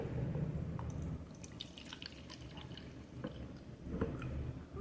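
Freshly mixed salt water pouring into a closed mini macroalgae tank, a continuous watery splash and trickle with scattered drips, moderately close, no talking.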